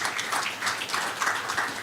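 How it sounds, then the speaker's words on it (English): Audience applause at an African health technology conference: dense, continuous clapping from a large crowd, steady and moderately loud, with no talking over it. "Please give yourselves a round of applause."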